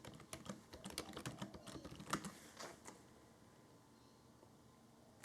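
Quick clicking keystrokes on a computer keyboard as a command is typed, a dense run of taps for about three seconds, then trailing off into quiet room tone; close and moderately loud, with no talking.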